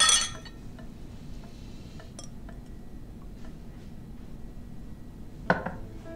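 Glasses clink together during a toast at a shared meal, a bright chime at the start and another sharp clink near the end, with small scattered taps of tableware in a quiet room between.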